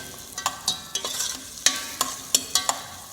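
Vegetables for a tomato sauce being stirred in a pan, a spoon scraping in a steady run of distinct strokes over a faint sizzle, close and clear with no voices.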